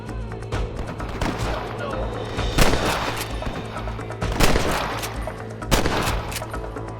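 Gunfire rings out in the Red Dead Redemption video game, with several sharp, loud shots at irregular intervals set against a background hum, and voices shouting between them.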